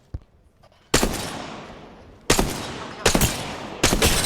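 Gunfire in the video game Apex Legends: a faint opening shot, then several loud close bursts of rapid automatic fire, each trailing off before the next, without speech.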